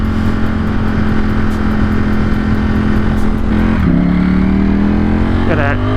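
A Ducati Streetfighter motorcycle accelerates with a quick shifter, its steady engine drone climbing, then dropping sharply at a quick upshift around the four-second mark before pulling again, loud and close.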